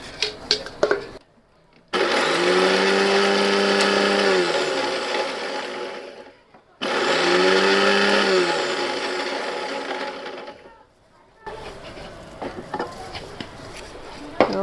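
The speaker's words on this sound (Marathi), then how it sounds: "मिक्सरला फिरवून घेते" A kitchen mixer grinder whirs loudly in two bursts of about four seconds each, grinding dry coconut and winding down between them, with brief clatter and rustling before and after.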